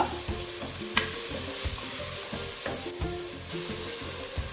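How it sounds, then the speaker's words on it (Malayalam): Crushed shallots sizzling in hot oil in a pan for a Kerala coconut chicken curry, with a rhythmic scraping and stirring of a spoon against the pan repeating about twice a second, close and steady. "അതിലേക്ക് ഒരു രണ്ട് മൂന്ന് ചെറിയ ഉള്ളി ചതച്ചത് ചേർത്ത് കൊടുക്കാം ഒന്ന് ഇളക്കുക"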